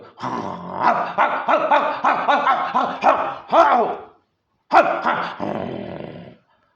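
A human voice imitates a mother dog growling and barking: a run of rhythmic snarling barks rising to a sharp yelp, a brief pause, then one more bark and a trailing growl, close and loud.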